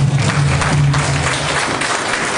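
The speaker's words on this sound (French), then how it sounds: "Donne un grand applaudissement au Seigneur." Church congregation clapping together, a dense, loud, continuous burst of applause heard close throughout, with a low tonal hum underneath.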